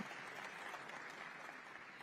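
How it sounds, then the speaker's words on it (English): Steady, dense audience applause at a panel event, continuous and even throughout with no clear pauses, heard from within the crowd. "So give yourselves a round of applause for your patience."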